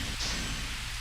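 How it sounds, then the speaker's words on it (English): Rain in the arcade racing game Initial D Arcade Stage 4, a dense steady hiss of falling rain with a low rumbling undertone, loud and continuous for a brief moment. "obviously it's raining"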